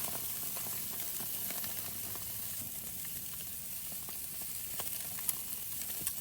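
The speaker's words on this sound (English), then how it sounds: "Just hear the sizzle." Food sizzles and crackles over a campfire with a steady, close frying hiss, dotted with occasional sharp pops and spits.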